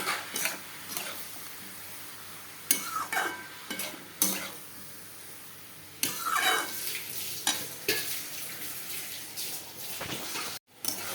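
Cabbage with turmeric and salt is stirred in a hot pan, loud scraping strokes over a steady sizzle, with a few sharper clatters.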